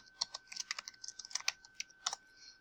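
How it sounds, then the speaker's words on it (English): Quick bursts of keystrokes on a computer keyboard as a spreadsheet entry is typed, irregular clicking clusters close by in a quiet room with no talk. "I'm going to type in medium-term goals."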